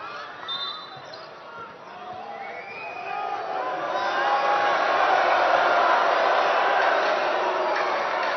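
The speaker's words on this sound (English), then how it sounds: "The crowd's still a bit unforgiving of that backcourt call." Hostile arena crowd at a women's basketball Olympic qualifier between China and France, a steady mass of voices that swells louder midway and holds, with faint ball bounces and commentary-like talk underneath.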